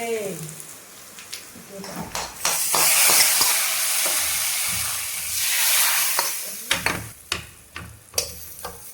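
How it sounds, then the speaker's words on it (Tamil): Spices temper in hot oil for a sengani fish curry, bursting into a loud, steady sizzling hiss that swells in the middle and fades. Light clicks and stirring taps come before and after it. "தாளிப்பு ரெடி ஆயிடுச்சு"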